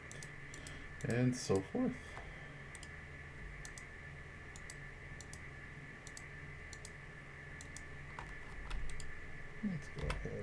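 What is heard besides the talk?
computer mouse clicking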